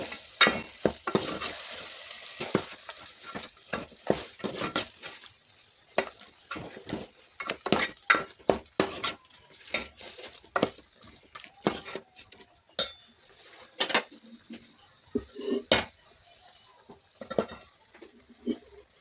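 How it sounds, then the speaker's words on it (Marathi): Mutton curry is stirred in a pot, a spoon scraping and clinking against the metal in quick irregular strokes over a soft sizzle, close and alone with no voices. "याला मिक्स करून घेऊया."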